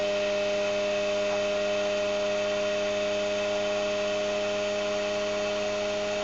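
An experimental three-phase electric motor, running on a single wired phase at 1,000 RPM, gives a steady tonal hum with a constant whine, close and unchanging throughout with no talk.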